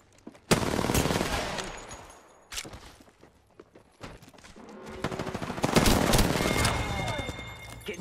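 Rapid gunfire in a squad-based battle royale shooter, with dense bursts of automatic fire loud and close, a short lull, then renewed sustained shooting.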